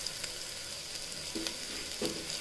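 Fresh mint and coriander leaves drop into onions sautéing for a white vegetable pulao, giving a steady close sizzle with a few soft stir strokes over a brief moment.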